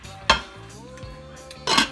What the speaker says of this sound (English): And we're gonna put the top back on that one